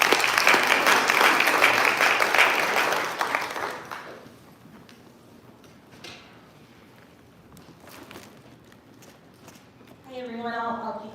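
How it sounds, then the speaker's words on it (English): Audience applause at a UN panel event fills the room loudly for about four seconds, then thins to scattered claps and rustling before a voice begins speaking. "give her a round of applause"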